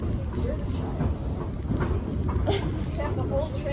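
Inside a passenger train carriage, a steady rumbling rattle of the moving car continues throughout, overlaid by people talking.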